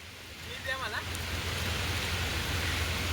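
Steady rain hisses continuously as a soft, even wash of noise, with a brief chirp-like sound near the start.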